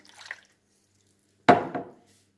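Water poured into a plastic food container while making a sweet yellow squash pie: a short faint splash, then a louder sudden gush that trails off within a second, alone without talk.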